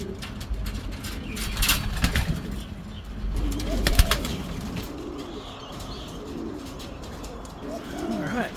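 Racing pigeons back home in the loft after a 256 km race, with repeated soft low cooing and short bursts of wing flapping at close range, plus faint background noise.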